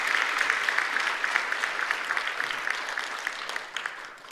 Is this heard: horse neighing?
no